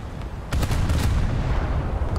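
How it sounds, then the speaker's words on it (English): Naval guns firing armor-piercing shells in the War Thunder naval battle game, heard as a loud, booming burst of shots over a deep, continuous rumble that carries on after the salvo. "we've just acquired range, and yeah, we are shooting some AP"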